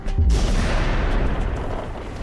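A 750-litre air cannon at an explosives test facility fires to recreate the Chelyabinsk asteroid blast wave, a single loud, sharp boom followed by a long rumbling roar that slowly fades, with no talking.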